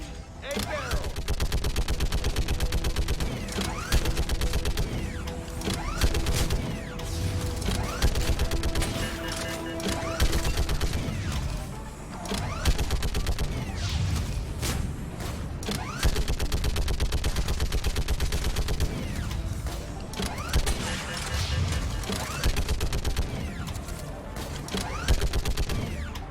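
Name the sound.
gunfire in Mass Effect Legendary Edition video game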